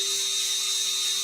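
A cordless power sander works on a yew hollow form, giving a steady, even whine with a hissy edge that runs without a break.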